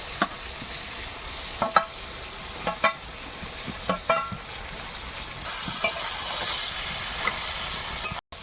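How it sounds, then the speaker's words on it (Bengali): Chicken being stir-fried in its own released oil with ginger-garlic paste and green chillies, a quiet steady sizzle broken by sharp scraping taps of a spatula against the pan, with a louder hissing surge near the end. "মাংসটা একটু কষিয়ে নিয়েছি"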